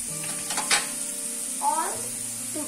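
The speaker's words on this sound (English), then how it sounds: "while the fish is frying" Fish frying in a pan, a continuous bright sizzle with soft stirring touches and faint tonal hum, close and even in level, with no speech.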